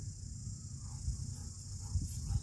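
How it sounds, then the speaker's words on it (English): Cicada buzzing in a tree in a park, a steady high-pitched ringing drone that runs unbroken throughout, with low rumbling wind noise underneath. "You hear that beetle in the background?"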